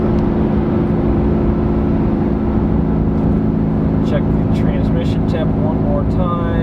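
Constant road and engine drone from a 2018 Chevrolet Silverado climbing a steep highway grade at Fancy Gap, steady throughout with someone talking over it.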